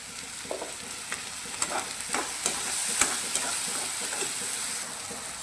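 Tomato puree poured into a hot spiced tadka for restaurant-style matar paneer, frying with a steady close sizzle and hiss while a spoon scrapes and stirs in irregular clicks across the pan.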